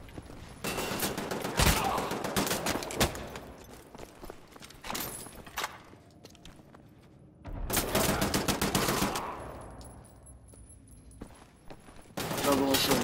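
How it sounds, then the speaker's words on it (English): Bursts of rapid automatic gunfire in the shooter game Wolfenstein: The New Order, loud and dense in two long volleys with a quieter stretch between, then a fresh burst at the end. "Another one shooting"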